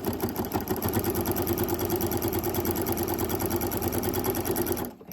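Sewing machine stitching quilt binding: a rapid, steady mechanical chatter of the needle running continuously at close range, then stopping abruptly near the end.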